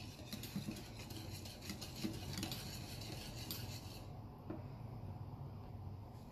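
A spoon stirs a chutney sauce seasoned with salt in a bowl, giving soft continuous scraping and clinking, quiet and close with no talk.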